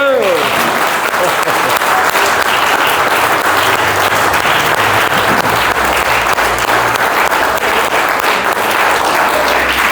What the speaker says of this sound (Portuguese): aplauda Ele, glória a Deus